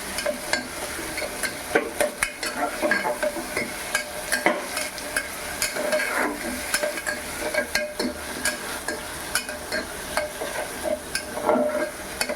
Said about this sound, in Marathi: आपण टॉमॅटो घालू टोमॅटो शिजून द्यायचा आहे थोडा